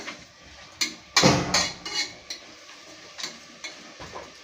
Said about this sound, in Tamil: நல்லா தக்காளி வதங்கணும்.